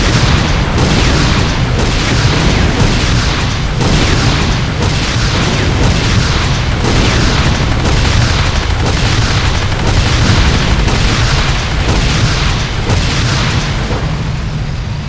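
A GDI Tiberium Refinery blowing apart in the game Renegade: a dense, loud roar of booming blasts that pulses in rapid regular waves, continuous and up close, filling the whole stretch with no voices.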